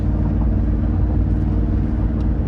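A Roush-upgraded Ford Lightning electric pickup spins and smokes its tires on a hot day, a loud, steady broadband roar and rumble holding for the whole stretch with no pauses.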